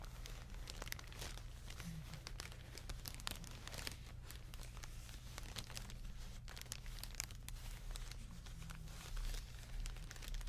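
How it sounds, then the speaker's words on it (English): Faint, steady crinkling and crumpling, soft and continuous over a low background hum. "I like this crinkling."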